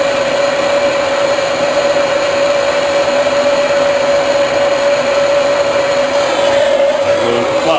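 A plumbing torch roars in a steady, loud hiss while heating and soldering a copper water main pipe, close up and continuous throughout with no talk.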